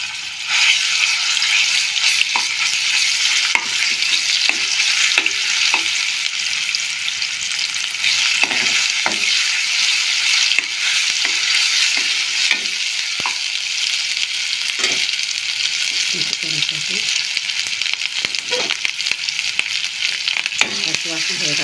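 Ginger paste frying in hot oil for mutton gravy curry, a loud continuous hiss and crackle lasting throughout, with frequent light scrapes and taps of a stirring spoon, close, no talk.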